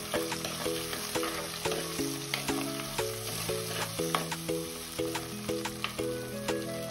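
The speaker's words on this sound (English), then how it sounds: "Fry nightshade fruit and black-eyed bean along with onion. Add sliced tomato." Nightshade fruit, black-eyed beans, onion and sliced tomato fry in a pan with a steady close sizzle, under a softly plucked melodic background tune.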